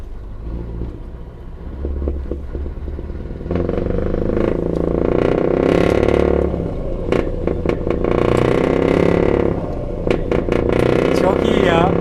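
A Scania Vabis 164L V8 truck revs hard through its exhaust, a deep rumbling idle that rises into loud, sustained throaty roars with repeated blips, close by and dominating, while people talk and laugh over it.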